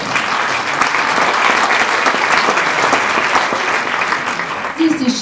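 A seated audience applauds steadily to welcome mayor Ulrike Westkamp at the closing event of a citywide reading campaign, the clapping dense and sustained from start to finish with a brief swell near the end.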